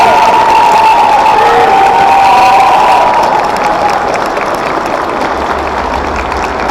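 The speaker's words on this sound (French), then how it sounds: "Je remercie le public, je vous laisse les applaudir." An audience at the Geekday Lille convention applauds and cheers after a talk, a loud, dense, sustained wash of clapping and crowd noise that eases slightly toward the end.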